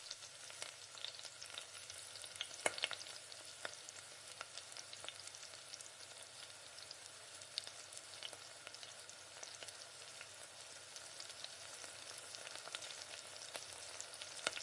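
Mutton biryani gravy being stirred in a pot, with a faint, steady sizzle and soft scraping that continue for about fifteen seconds, quiet and without speech.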